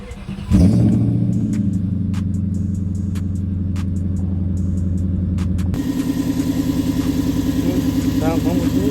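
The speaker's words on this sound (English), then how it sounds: "so get y'all a little cold start" An Infiniti M45 with a new intake cold-starts with a sharp crank and catch, then settles into a steady, close idle with a low rumble; the engine note shifts to a slightly rougher, pulsing idle partway through.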